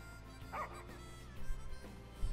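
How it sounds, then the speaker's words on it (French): Umbra, the dog companion in the game Final Fantasy XV, gives a few soft barks and yips, brief and moderately close, amid game music and background sound. "Ce chien a un flair incroyable."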